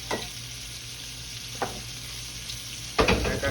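Alligator tails deep frying in oil in a deep fryer give a steady low sizzle, with a few louder bursts of bubbling and stirring.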